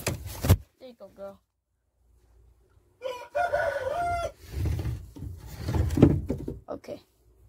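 A hen clucks and crows in short bursts close by, mixed with bits of talk and rustling, with a quiet gap in between.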